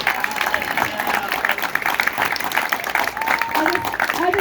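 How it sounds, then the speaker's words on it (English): A round of applause at an awards banquet, dense steady clapping from a crowd with voices mixed in throughout. "Everybody give him a round of applause."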